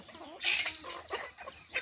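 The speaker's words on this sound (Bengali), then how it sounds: "দেখেন আমার কতগুলো মুরগি দেখছেন" Several chickens cluck close by in short, overlapping bursts, with no one speaking.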